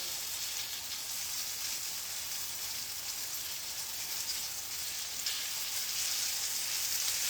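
Chicken pieces for chicken piccata, some breaded, fry in a pan with a steady, dense sizzle that holds at an even loudness throughout, no voices over it.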